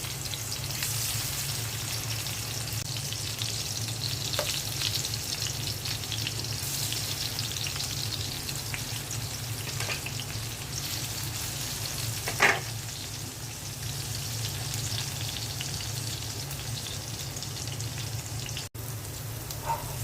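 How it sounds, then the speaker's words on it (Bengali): Pumpkin pieces fry in hot oil in a frying pan, giving a steady, even sizzle throughout with occasional soft pops and stirring clicks, no talk. "ফ্রাই প্যানে তেল দিয়ে দিচ্ছি তেলটা গরম হয়ে গেছে মিষ্টি কুমড়াগুলো দিয়ে দিচ্ছি"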